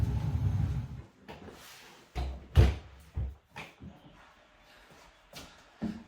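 A door taken off its frame is handled and set into place during a door seal repair: a low scraping rumble, then several sharp knocks and thumps of wood, fairly close, with no talking.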